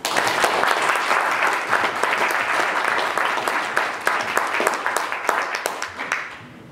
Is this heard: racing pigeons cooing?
no